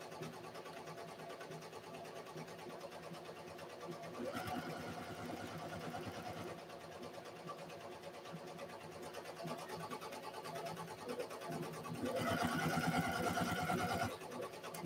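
A sewing machine hums continuously while stitching a tutu on a longer stitch length, with a louder, busier stretch near the end; a voice talks faintly underneath.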